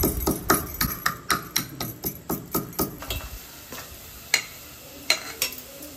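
A utensil mashes cooked sweet potato in a pan, producing a steady run of about a dozen rhythmic knocks against the metal, then a few slower, scattered taps.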